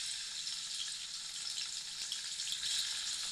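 Prawns frying in oil give off a steady, soft hiss of high sizzle with no break and no voices.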